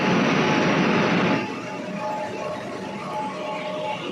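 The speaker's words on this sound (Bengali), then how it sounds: "মেট্রো এখন সেন্ট্রাল পার্ক স্টেশনে চলে এসেছে" A Kolkata metro train pulls into Central Park station, a loud broadband rumble with steady tonal whine that drops in level after the first second and a half, then continues as a softer running drone to the end.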